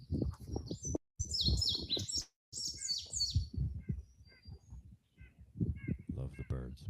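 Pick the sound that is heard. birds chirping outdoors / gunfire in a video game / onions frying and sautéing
birds chirping outdoors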